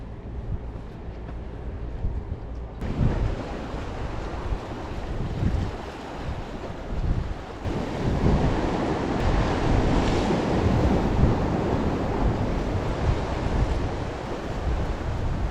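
Strong sea waves crash and churn with gusting wind buffeting the microphone after a storm at a coastal fishing spot, a loud continuous roar throughout with no talking.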